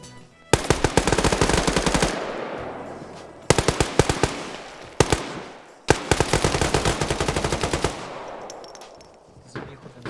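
Rapid automatic gunfire in a modern shooter video game, three long loud bursts of machine-gun fire separated by short pauses.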